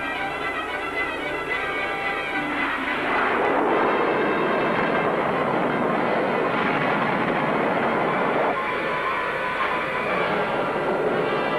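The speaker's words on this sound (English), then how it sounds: "Try a rocket barrage and report results immediately." A movie-effect rocket barrage roars continuously, a loud dense rumble of launches and blasts without a break and with no voices.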